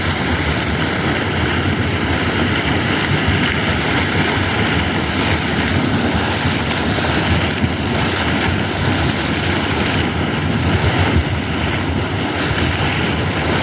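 A geyser spraying water, heard as a steady, loud, broadband rushing roar that holds constant throughout with no speech over it.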